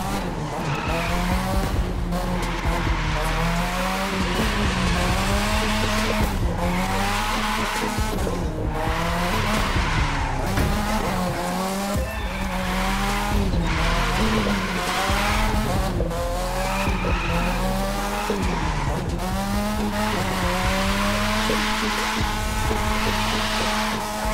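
Race cars in The Crew 2 video game: revving engines rise and fall through gear changes while tires squeal and skid almost continuously, loud and close throughout, with no talk.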